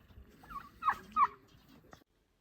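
A mixed-breed chocolate-colored turkey hen, about eight months old, gives two short, close gobbling calls in a quiet farmyard, followed by silence.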